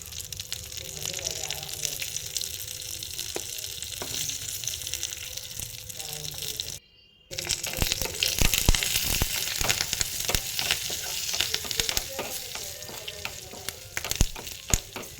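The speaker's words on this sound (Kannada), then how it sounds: "ಒಗ್ಗರಣೆಗೆ ಎಣ್ಣೆ, ಸಾಸಿವೆ, ಒಣಮೆಣಸು, ಕರಿಬೇವು, ಹಾಗೆ ಒಂದು ಸ್ವಲ್ಪ ಇಂಗನ್ನು ಹಾಕಿ ಒಗ್ಗರಣೆಯನ್ನು ರೆಡಿ ಮಾಡಿಕೊಂಡು" Oil tempering of mustard seeds, dry red chilli, curry leaves and asafoetida for beetroot sambar sizzles and crackles loudly and steadily, with a brief silent cut midway and sharp popping bursts after it, no talk.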